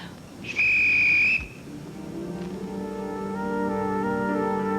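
A single loud, steady whistle blast is blown for help, lasting under a second, then fades into sustained background music tones.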